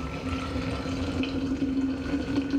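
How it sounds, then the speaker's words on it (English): Brewed coffee pouring from a French press into a cup, a steady, quiet liquid trickle with a faint ringing pitch, close and continuous with no talking. "I just want a nice, clean pour of coffee."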